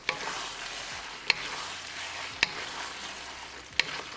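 Shrimp Alfredo spaghetti being stirred in a pan with parsley flakes, a soft sizzle underneath and three sharp utensil knocks against the pan at regular intervals, close and without talk.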